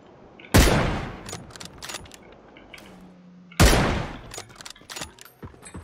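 Two loud sniper rifle shots ring out in the video game PUBG, about three seconds apart, each a sharp crack with a long echoing tail and faint clicks between.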